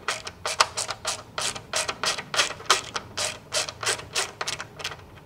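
A finger ratchet drives a screw into a moped tail light, giving a quick series of about a dozen sharp clicking bursts, each a short ratcheting rattle, close and fairly quiet with no talking.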